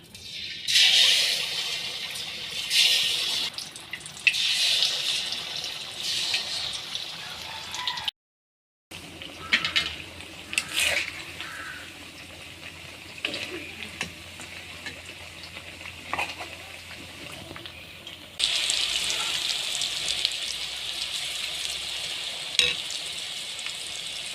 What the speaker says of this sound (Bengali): এগুলো আমি এখন তেলে ভেজে নেব। চুলায় তেল গরম হয়েছে, দিয়ে দিব বিসমিল্লাহ।